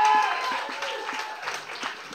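Scattered audience applause at a live spoken-word show, fading steadily over a couple of seconds with a few cheers.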